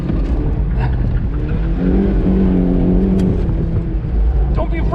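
A 2007 Mazda Miata NC on wide tires drones hard at full throttle on a track, heard loud from inside the cabin with a steady engine note that rises slightly, while a person talks over it.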